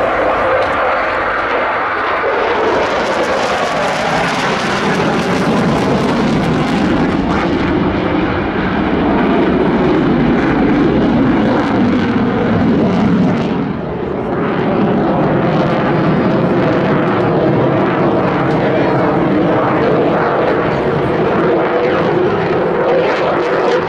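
RAF Typhoon fast jet at the Southport airshow, its engine roar swelling and sweeping past overhead, loud and sustained for the whole stretch with a rumbling low end and a brief dip midway.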